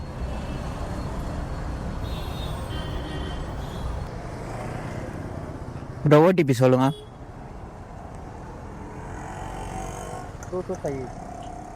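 Heavy road traffic in Velachery makes a constant dense rumble and hiss of passing vehicles that runs throughout, with someone briefly speaking over it partway through.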